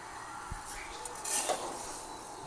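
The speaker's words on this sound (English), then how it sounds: "you're going to want to stir that and coat all the rice" A utensil scrapes and clinks against a pan as rice is stirred and seared in oil, with a few sharp metallic taps and a faint sizzle underneath.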